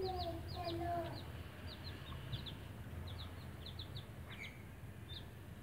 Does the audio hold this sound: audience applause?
no